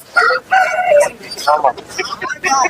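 A rooster crows loudly and close at a poultry market, its harmonic call repeated in several bursts amid busy market clamor and other fowl clucking nearby.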